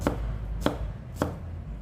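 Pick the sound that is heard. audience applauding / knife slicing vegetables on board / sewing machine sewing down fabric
knife slicing vegetables on board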